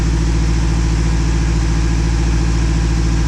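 A car engine idles steadily and close by, a loud continuous low rumble with an even mechanical pulse and no voices.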